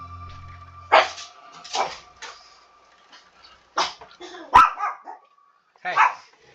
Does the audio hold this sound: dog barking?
yes